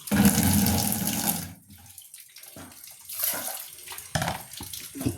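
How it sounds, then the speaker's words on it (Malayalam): Plain water poured into mango juice with sugar, a loud steady splashing stream for over a second, followed by quieter trickles, drips and light container knocks. "അതുകൊണ്ട് സാധാരണ വെള്ളം ഒഴിക്കുന്നു"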